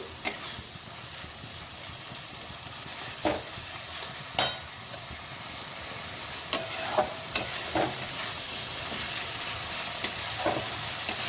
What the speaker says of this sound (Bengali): একটু ভালো করে কষিয়ে নিতে হবে মশলাটা